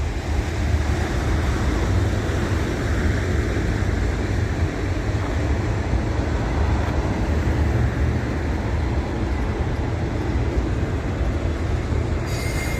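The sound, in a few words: passing freight train with bumpy wheels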